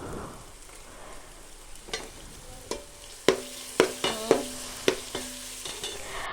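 Biryani masala with coriander and mint leaves being stirred in a pan, a soft sizzle underneath and a series of sharp spoon taps and scrapes growing louder toward the end, close and with no talk.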